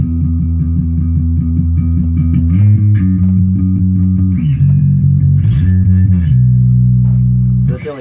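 Bass guitar playing the second pre-chorus of the worship song Church Triumphant, loud and close with sustained low notes stepping between a few pitches, steady and clean with no talking over it.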